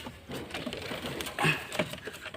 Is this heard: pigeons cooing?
yes